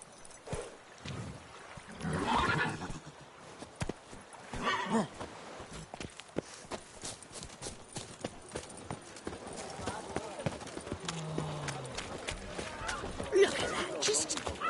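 Hoofbeats of Roach, the horse in the video game The Witcher 3, clopping along with occasional whinnies, under steady game ambience and a spoken voice.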